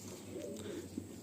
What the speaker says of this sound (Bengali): খুব সুন্দর একটা নর পায়রা